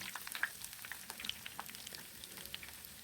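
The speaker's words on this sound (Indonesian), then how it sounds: "Kemudian ini digoreng dulu ya sampai terongnya itu matang." Eggplant pieces frying in hot oil for a spicy balado dish, giving a faint, steady crackle with scattered soft pops and spits, no talking.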